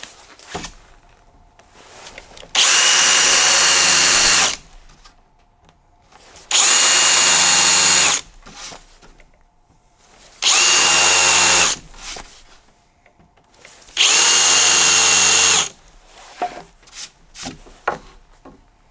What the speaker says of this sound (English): Countersink bit without a pilot bit.